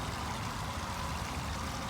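Steady rushing water from a stream several feet deep, a continuous close broadband flow with no voices.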